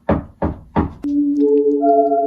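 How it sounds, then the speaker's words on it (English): Three loud, evenly spaced knocks on a door ring out close by, followed by a sustained, layered musical tone that swells and holds. "Now it's knocking."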